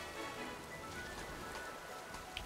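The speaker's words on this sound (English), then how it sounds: "Also, love the rain." Rain falling in the video game Pokemon Scarlet, a steady, even hiss of drops filling the scene without a break, moderately loud.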